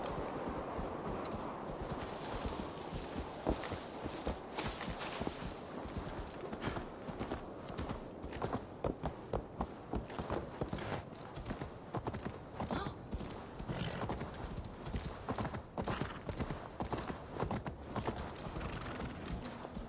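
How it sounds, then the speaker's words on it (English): Horse hooves clip-clopping steadily in the Assassin's Creed Valhalla video game, a continuous rhythmic trot over game ambience with an occasional faint whinny. "I have a horse!"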